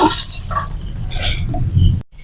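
Uncooked rice pours into a pressure cooker holding chicken madhooth, a steady gritty hiss of grains with light clinks that cuts off abruptly near the end.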